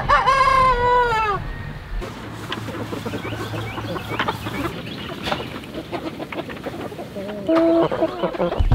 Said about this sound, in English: These are Murray's Big Red Broilers from McMurray Hatchery.